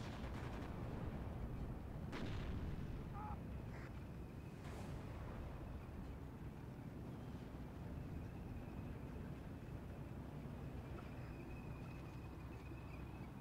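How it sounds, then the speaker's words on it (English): Gunfire and artillery fire from the battle game Steel Division 2, a dense continuous rumble of distant shots and booms with a few sharper bursts, steady and loud throughout with no talk. "there's a lot of stuff firing on the infantry"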